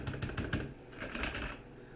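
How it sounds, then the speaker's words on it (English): Keystrokes on a mechanical aluminum-framed gaming keyboard, a quick run of close, crisp clacks in an uneven rhythm for about half a second, then softer, blurred key presses, with no talking. "It's technically a gaming keyboard, but it's a mechanical."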